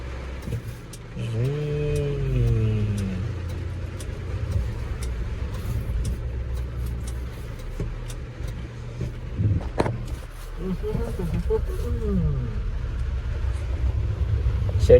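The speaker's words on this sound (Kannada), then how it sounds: "ಬರ್ಬೇಕಲ್ಲ ಶೆಡ್ಡಿಗೆ ಹೊಡಿಯೋಣ ಗಾಡಿನ." A car rolls into a shed to park during heavy rain, its low engine hum steady and close for the whole stretch, with short voice-like sounds breaking through partway.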